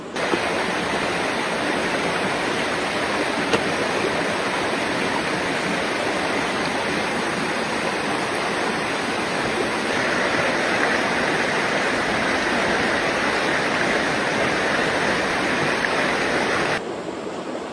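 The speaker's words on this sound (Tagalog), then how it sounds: "Kumukulo na po yung ating tubig guys" Steady, dense rushing and bubbling of water boiling hard in a pot for pancit canton noodles, continuous and fairly loud throughout, cutting off abruptly near the end.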